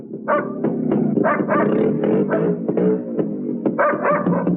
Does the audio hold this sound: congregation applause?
no